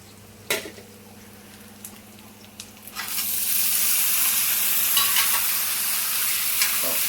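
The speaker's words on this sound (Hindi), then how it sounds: "और अब जो है ना मैं इसमें डाल दूँगी अब ये टमाटर।" Tomatoes tipped into golden-brown fried onions with ginger and garlic for chole bhature: a few soft clinks and taps over quiet background music, then a loud, sustained sizzle that continues as the pan is stirred, no talking.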